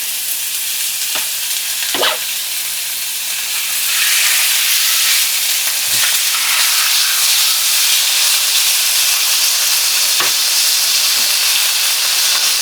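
Pork pieces brown in a hot pan for Kentucky burgoo, a loud continuous hiss and sizzle that swells after a few seconds, broken by occasional stirring clicks and scrapes close by.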